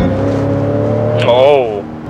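A Lincoln Navigator Reserve short-wheelbase with twin-turbo engine accelerates in sport mode, a steady cabin drone rising in pitch as the engine revs up, with people talking over it inside the vehicle.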